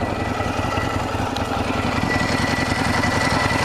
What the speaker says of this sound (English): the last thing I want to record is the sound of my engine at idle.